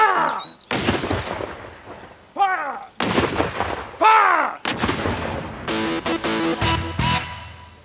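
Civil War reenactment cannon fire from gunpowder cartridges sounds as a series of sharp, loud booming reports with ringing echoes, several blasts spaced a second or so apart and close to the listener.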